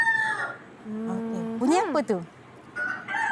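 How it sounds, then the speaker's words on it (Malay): A rooster crows loudly and close by, one full cock-a-doodle-doo with a rising then falling call, played as a sound-guessing game in a class, with people talking briefly before and after. "Ini bunyi ayam jantan."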